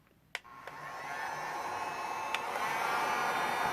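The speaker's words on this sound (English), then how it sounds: "I have it on high fan and medium heat because I don't want to burn. I don't want to melt anything. I just want to warm it up." A heat tool set to high fan and medium heat blows over warped resin art. A few sharp clicks come first, then a steady, airy hiss that grows and holds close by with no talking.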